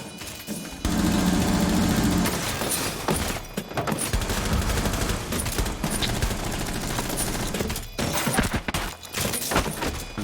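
Video game gunfire, dense and sustained with repeated shots and bursts under a busy, continuous wash of game noise, loud and fairly close throughout.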